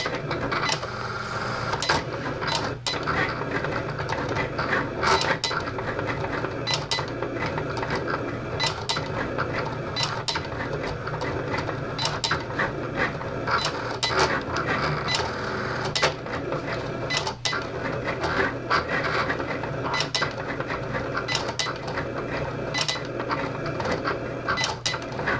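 A Cricut cutting machine cuts out an earring design, giving a steady mechanical whir full of rapid clicks and light rattles that runs without a break for about 25 seconds, with no talking.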